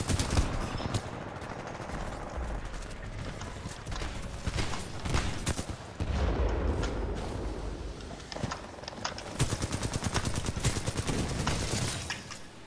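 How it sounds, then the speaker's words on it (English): Rapid automatic gunfire from the Alternator gun in the video game Titanfall 2 rattles in dense bursts over game effects, loud and continuous with brief gaps. "Oh, alternator's always a good gun, but it's inaccurate."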